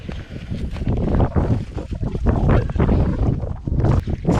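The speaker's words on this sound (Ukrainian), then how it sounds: "вітер дує, чи чути мене, чи не чути" Strong gusty wind buffets the microphone in loud, uneven rumbling waves throughout, with a faint rustle beneath, outdoors in a village vegetable garden.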